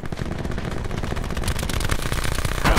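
Automatic gunfire from the video game Call of Duty: Black Ops 4, a steady dense stream of loud shots running the whole time, denser and sharper near the end.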